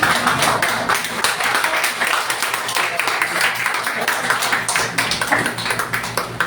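A church congregation at a Sunday service claps together, a thick, continuous wash of hand claps that runs evenly throughout, with voices faintly underneath.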